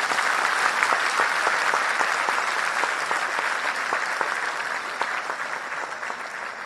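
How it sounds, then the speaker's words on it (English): Sustained audience applause at a Social Business Day event in Bangladesh, a dense, steady wash of many hands clapping that fades slightly toward the end. "Let's give a big applause for them."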